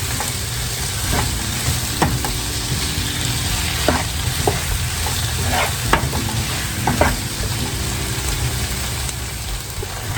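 Chopped vegetables sizzle and cook down in a hot pan, giving a steady close frying hiss with occasional scrapes and clinks of a stirring utensil, and no voices.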